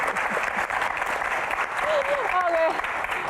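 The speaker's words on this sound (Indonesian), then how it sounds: "Oke, tepuk tangan." Audience clapping during a talk show interview with a film director, a steady round of applause with a voice calling out partway through over the clapping.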